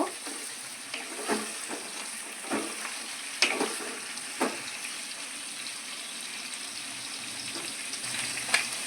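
Lightly salt-boiled prawns fry in a pan, a quiet steady sizzle broken by several sharp scraping clicks of a spatula stirring them at irregular intervals, with no talking.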